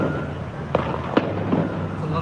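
Gunfire during an attack at Bondi Beach: two or three sharp, distant cracks spaced irregularly over a steady background hum and murmur of voices.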